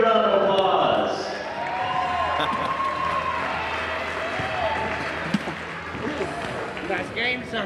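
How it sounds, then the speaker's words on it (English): A crowd applauds and cheers in a high school gym after a winner is announced at a boys' basketball game. The clapping is loudest at the start, settles into a steady patter with voices over it, and ends in a few scattered claps. "Let's give him a big round of applause."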